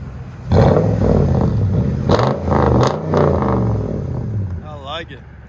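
A straight-piped 2017 Toyota Tundra with a 5.7L V8 revs in loud, close bursts. The deep exhaust roars rise and fall several times, and a brief higher warbling tone appears near the end.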